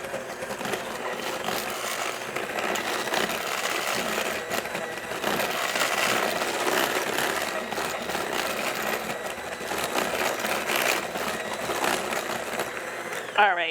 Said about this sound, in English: I just use my hand mixer.